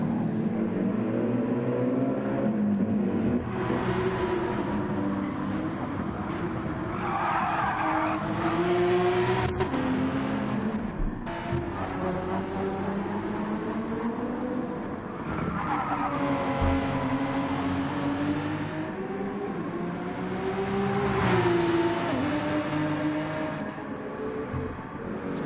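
Race cars lapping Trial Mountain in Gran Turismo 7, engines droning and rising steadily with long tire squeals and skids through the corners, continuous and loud throughout.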